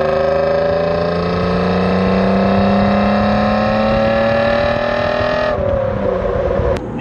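An Alfa Romeo GTV Cup's V6 engine exhaust drones loudly and steadily, its pitch climbing slowly as it revs, then dropping abruptly as the throttle lifts near the end.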